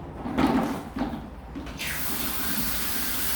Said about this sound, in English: and I fill this with water